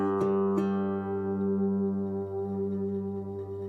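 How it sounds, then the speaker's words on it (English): Slide guitar plays three notes, two quick plucked attacks and then a long sliding, sustained tone that rings with heavy effects and slight wavering pitch. "if I want to play these 3 notes and give them some special slide life, it would sound like this"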